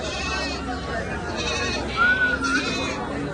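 Goat bleats at a crowded livestock market ahead of the Eid sacrifice, one wavering call standing out over a constant background of voices and general hubbub.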